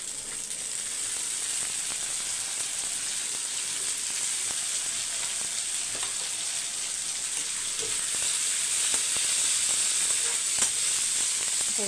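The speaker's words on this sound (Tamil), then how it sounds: "வெங்காயம் வதங்கட்டும் இப்போ தக்காளி ரெண்டு" Onions and tomatoes sauté in a pan for a home-style Tamil meal, producing a continuous close hissing sizzle with occasional soft crackles and no talk.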